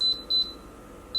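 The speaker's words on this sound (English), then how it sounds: "on the Duo Evo Plus, here I'll give you an example, the beeping sounds like this." An Instant Pot Duo Evo Plus pressure cooker gives three short, clear electronic beeps, the first two close together and the third after a pause, loud and up close with no talk.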